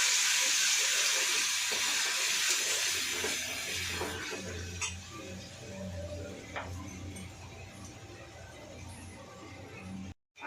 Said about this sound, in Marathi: त्याच्यामध्ये आपल्याला आलं, लसूण, मिरची, घालून चांगलं भाजून घ्यायचे.